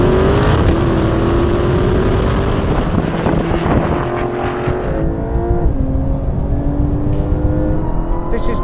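A Dodge Challenger Demon and a Porsche 911 Turbo S accelerate hard side by side from a rolling start at 50 mph, loud engine roar with rising gear tones through upshifts, a voice talking over the din.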